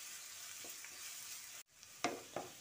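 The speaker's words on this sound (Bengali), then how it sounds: "পেঁয়াজটা দিয়ে একটু ব্রাউন করে ভেজে নিতে হবে।" Finely chopped onions fry in oil while being browned, giving a soft steady sizzle with occasional scraping stirs and a brief clatter near the end.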